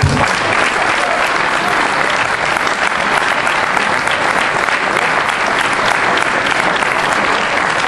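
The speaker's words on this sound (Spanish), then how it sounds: "Un aplauso." A large seminar audience breaks into loud, dense applause that holds steady and close for the whole stretch, a continuous wash of many hands clapping with no talk over it.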